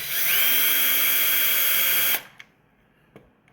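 A power drill whirs steadily while backing Torx screws out of a Graco machine during a transducer replacement, a loud continuous whine that cuts off abruptly, followed by a couple of faint clicks.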